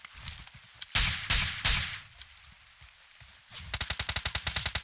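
Gunfire in PUBG Mobile comes as a few heavy single shots, then a quick rhythmic burst of automatic fire, loud and close with quieter gaps between.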